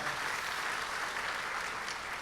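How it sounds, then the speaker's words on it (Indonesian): Audience applause fills a church during a sermon, a dense, steady wash of many hands clapping at moderate distance, with no speech over it. "Kasih tepuk tangan buat papi saya."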